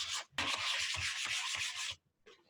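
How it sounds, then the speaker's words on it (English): Sandpaper rubs by hand over a wooden chair being prepped for paint, a close, loud rasping stroke in quick circular rhythm that runs for about two seconds before stopping, then one faint further rub. "So when I'm sanding this, it's just circular motions right over the top."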